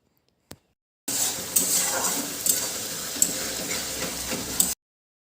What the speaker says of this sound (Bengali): এবার এই মশলাটাকে বেশ ভালো করে কষিয়ে নেব।